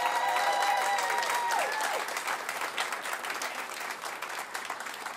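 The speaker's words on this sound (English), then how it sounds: "Let's roll round of applause for Jeff Rader one more time" Audience applause for Jeff Rader at a press conference on the North DeKalb Mall demolition: steady clapping from a crowd that starts strong and tapers slightly over five seconds, with some tonal sounds in the first two seconds.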